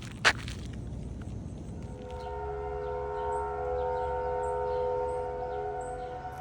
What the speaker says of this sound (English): This is my town's tornado warning siren.